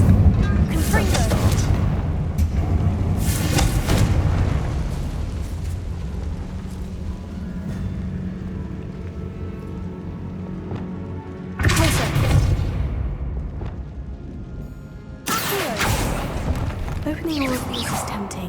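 Confringo blast spells in Hogwarts Legacy go off as repeated loud, deep booming explosions, roughly four separate bursts with rumbling tails, while voices talk in between and under them.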